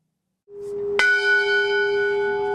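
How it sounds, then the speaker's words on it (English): A single church bell strikes once, loud and close, its bright metallic clang ringing on with a long sustained hum, the ringing held in support of halting an execution in Alabama. "Each ring of the bell"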